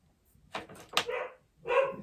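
Dogs in a home bark in three short, close bursts separated by brief gaps, loud and sharp against an otherwise quiet room.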